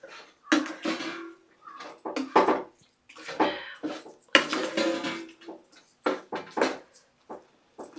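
A spoon stirs a tempering of fried spices into coconut chutney in a bowl, making irregular scraping and clinking strokes in quick bursts, close by, with no talk.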